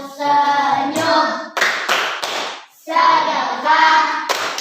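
Schoolchildren in a classroom perform a patterned group clap routine, with bursts of sharp unison claps between stretches of chanting children's voices, close and loud.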